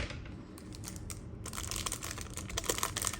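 Blade cutting and plastic crinkling as a 1986 Topps baseball card rack pack is cut open, a quiet close crackle of wrapper that grows busier and louder halfway through.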